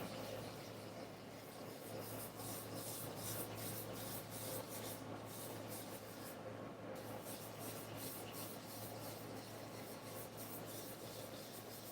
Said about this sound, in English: I am actually lightly sanding paint.